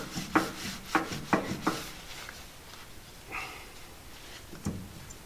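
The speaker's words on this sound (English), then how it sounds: "Wipe some of this old grease off." Old grease is wiped off a Scout steering ball joint with a rag, giving several short, soft scraping rubs in quick succession, then a quieter pause and a couple of faint swipes, close and alone.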